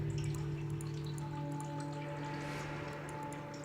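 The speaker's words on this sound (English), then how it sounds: "A stream of water is flowing to the cave to a rock pool" In the video game Sisyphus Reborn, a stream of water runs into a rock pool inside a cave. It makes a steady trickle with scattered drips, heard over a low, constant droning hum.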